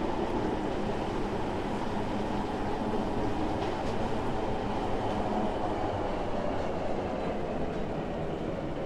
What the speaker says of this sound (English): Welcome on board this Stepford Connect service to Rayleigh Bay.